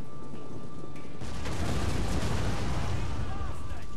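Ballistae fire flaming rounds in a Total War: Rome 2 battle, and a heavy rumbling impact and roar swells after a quieter opening, then keeps roaring for several seconds.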